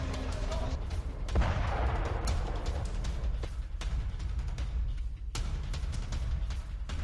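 A sharp blast rings out in Gaza, followed by a rumbling, noisy aftermath with scattered thuds and another abrupt bang later on.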